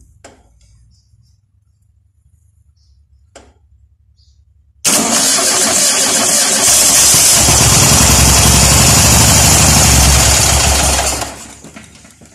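An air-cooled VW Type 4 engine is run outside a car: after a few quiet clicks it cranks and bursts into a loud, steady running roar for about six seconds before shutting down and fading.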